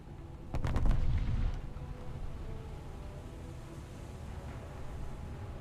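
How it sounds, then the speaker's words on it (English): Warship turret firing a ranging shot in a naval battle video game: one loud, heavy boom with a rumbling low tail, followed by a steady mechanical hum. "Oh, it's a turret ranging shot, of course."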